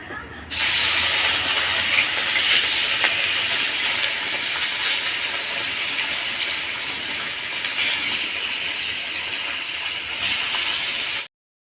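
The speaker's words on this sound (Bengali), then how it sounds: "এবার আমি মাছগুলোকে ভেজে নেব।" Fish frying in oil in a kadai, a loud steady hiss and crackle from start to finish with no voices over it.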